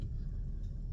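Steady low road rumble and engine drone from inside a moving car, continuous and even throughout with no talking.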